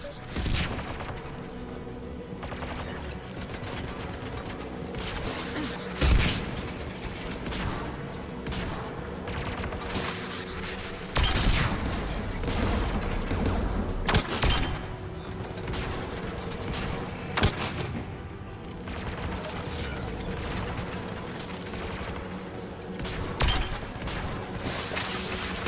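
Sustained gunfire from turret guns in Mass Effect 3 on Rannoch: repeated heavy bursts and booming blasts over a constant rumbling battle din, with louder shots punctuating every few seconds.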